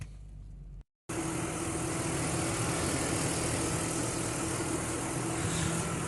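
A car engine idles steadily after a brief silence, left running for a fault check, with a constant low hum and broadband noise close to the microphone throughout.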